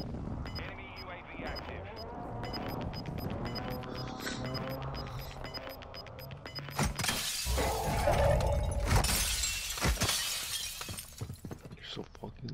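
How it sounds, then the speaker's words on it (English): Glass shattering in Warzone 2, a bright crash followed by scattered falling shards, heard among game noise while players talk over it. "I gotta break this glass so I can shoot through it"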